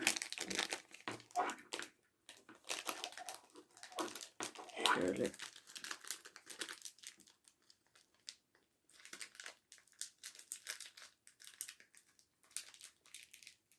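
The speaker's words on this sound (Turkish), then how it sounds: "Şimdi şu beyaz kısmı yani gümüş kısmı dışa bakacak şekilde kalemimizi şöyle etrafına saracağız." Silvery foil crinkles and crackles in irregular bursts as it is wrapped by hand around a pen to make a touchscreen stylus, close and fairly faint, with brief pauses and a single spoken word.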